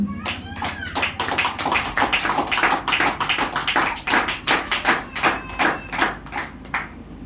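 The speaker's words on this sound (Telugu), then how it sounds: "చప్పట్లు కొట్టింది గట్టిగా" Loud clapping at a church service in Telugu, a steady rhythm of sharp hand claps from a group, close and continuous, with a voice under it.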